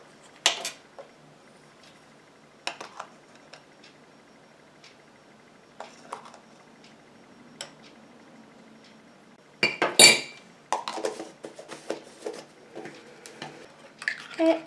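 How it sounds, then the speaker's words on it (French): Homemade deodorant lotion is mixed in a glass container, with sparse, sharp clinks of a utensil against glass that turn into a denser run of tapping and scraping toward the end. "Et je mélange."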